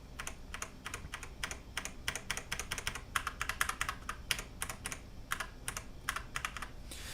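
Fingers type on a Das X40 mechanical gaming keyboard, rapid irregular bursts of crisp clicky keystrokes with brief pauses, close and moderately quiet.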